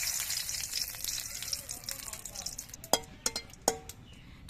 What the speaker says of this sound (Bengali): তেজপাতাটা একটু ভাজা হয়ে যাওয়ার পর